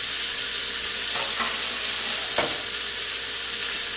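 Steady, even sizzling of seasoned fish fillets frying in a hot pan, with a couple of soft clicks and taps partway through; no voices.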